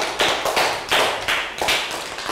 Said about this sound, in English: Big round of applause for Dan.